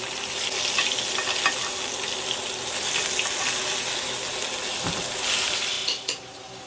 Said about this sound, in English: Now we're just going to grab our basting spoon here. Baste away.